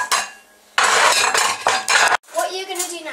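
Bowls clink and clatter as they are set out in a kitchen for making rainbow cupcakes, a few close bursts of clinking with a voice speaking around them.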